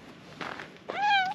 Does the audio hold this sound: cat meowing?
yes